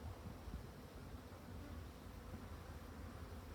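Drone bees and workers buzz at an extremely weak hive colony, a steady, faint insect drone with no voices.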